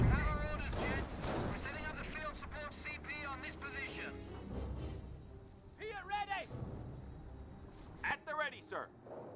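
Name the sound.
incendiary mortar fire in video game Company of Heroes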